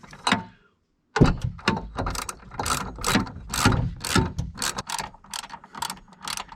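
A coilover damping adjuster is turned click by click, giving a string of sharp, close ratcheting clicks at a steady pace after a short pause.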